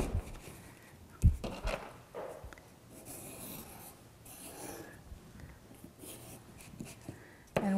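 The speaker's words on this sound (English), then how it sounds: "when you're tracing, you don't want to go underneath like this, but to come from the top and go over there" A pencil tracing a circle around a tape roll on paper, a soft, faint continuous scratching rub with a few light knocks, close and quiet.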